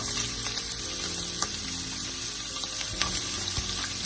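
Vegetables for a vegetable biryani, sautéed with fennel seeds and onion, sizzle and fry steadily in a pan, a dense continuous hiss with occasional sharp clicks from stirring, close and fairly loud.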